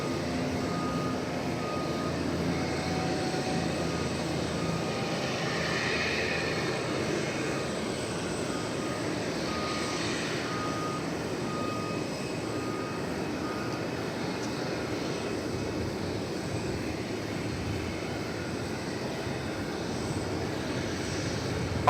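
Airliner taking off from runway 18 left at DFW Airport, a steady broad engine roar held at distance throughout, even and continuous without breaks.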